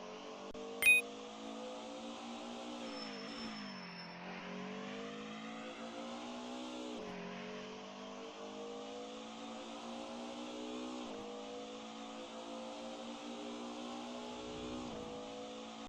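Race car engines in the DTM Classics racing video game drone steadily and rise and fall in pitch as the cars shift gears and take corners. The sound is continuous and moderately loud, with no talking.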